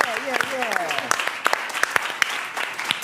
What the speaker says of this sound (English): All right, give a round of applause for our 3 directors here.